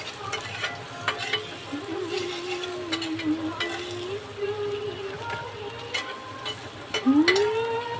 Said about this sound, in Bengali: এবারে আমি একটু নাড়িয়ে নিই